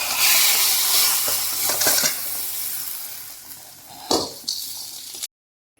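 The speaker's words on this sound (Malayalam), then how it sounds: "ഇപ്പോൾ കടുക് പൊട്ടി വന്നിട്ടുണ്ട്." Mustard seeds splutter in hot oil for a tomato sambar, a bright sizzling crackle that fades over several seconds, broken by a few clinks and scrapes of a spoon against the pan before cutting to silence.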